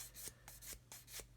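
Wooden joint rubbed by hand with 400 grit sandpaper: four steady back-and-forth strokes, each a soft close rasping sweep, with short pauses between and no talking.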